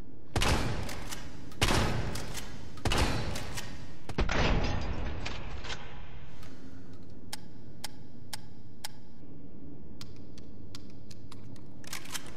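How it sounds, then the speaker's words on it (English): M3 shotgun without attachments fired in Resident Evil 3 Remake: four loud, close blasts about a second apart, then a quieter run of sharp mechanical clicks and ticks. "let's go ahead and test the M3 shotgun out, first with no parts attached"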